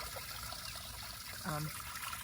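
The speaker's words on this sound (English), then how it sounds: "I had that vintage water fountain out here." A vintage water fountain on a summer porch trickles continuously, a steady close splashing wash of water with a brief voice sounding over it midway.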